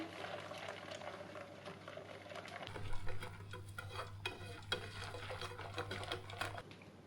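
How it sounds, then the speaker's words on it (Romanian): Vanilla custard cooking in a saucepan on the stove, stirred continuously as it boils and thickens: steady scraping and bubbling with a low hum from about three seconds on, no speech. "Fierbem crema cam 5 minute până se îngroașe, amestecând în continuu."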